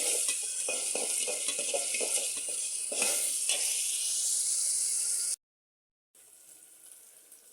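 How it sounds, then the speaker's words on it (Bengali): Chopped onion frying in a pan for chicken bhuna, a steady close sizzle with a few stirring scrapes in the first seconds, then a short silent break before the sizzle returns. "পেঁয়াজটা প্রায় ভাজা হয়ে গেছে"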